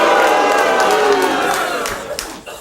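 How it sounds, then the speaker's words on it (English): Studio audience booing at a late-night comedy taping, a loud sustained crowd jeer that slowly fades away. "Oh, you shouldn't have booed him."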